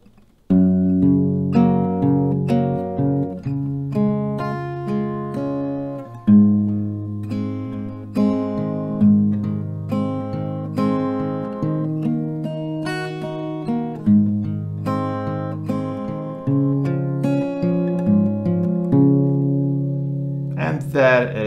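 Acoustic guitar strums the chorus of a song at a slightly slowed pace, steady chords ringing close and clear, alone with no voices.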